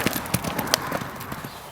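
Horse hooves clip-clopping during riding, a quick irregular series of hoof strikes at moderate distance over a busy outdoor background.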